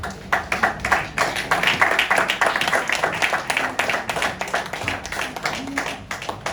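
A church congregation at a thanksgiving service claps together in quick, uneven rhythm, loud and close, with a few voices calling out under the applause.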